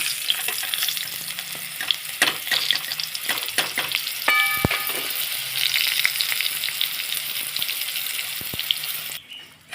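Pointed gourd sizzling in hot oil, with scattered clinks and scrapes of a spatula stirring the pan over the constant hiss.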